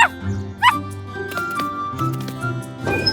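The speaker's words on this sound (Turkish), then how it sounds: "Köpekçik garaja geldi." A cartoon puppy in a Turkish children's animated series about helper cars gives a few short, bright yips and barks in quick succession, close and clear over background music.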